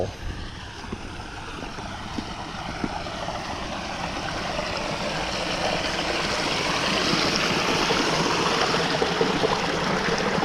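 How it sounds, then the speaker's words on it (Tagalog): Strong irrigation water flows in a rural field channel as a steady, broad rushing wash that swells slightly louder toward the end, with no voices over it. "Lakas ng tubig yan na irrigation."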